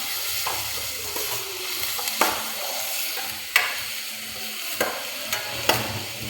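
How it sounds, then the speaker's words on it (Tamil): Onions fry in a pan while being stirred for a pearl millet vermicelli dish: a close, continuous sizzle broken by sharp spatula scrapes and knocks every second or so, with no talk. "ஆனியன் ஆட் பண்ணி நல்லா வதக்கி விட்டுக்கோங்க. நல்லா ப்ரௌனிஷ் ஆகிற வரைக்கும் வதக்குங்க."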